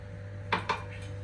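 Cake batter being mixed in a bowl, two quick clinks of a utensil against the bowl close by, then faint scraping over a low steady hum.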